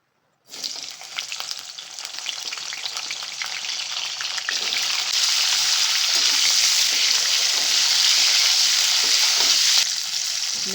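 Drumstick pieces frying in hot oil give a steady, loud crackling sizzle that starts abruptly and swells stronger halfway through, with no voices over it.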